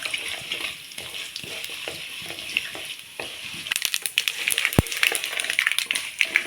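Mustard seeds and urad dal frying in oil for a chutney, a crackling sizzle that grows busier and louder halfway through, with sharp popping spatters and spoon stirring.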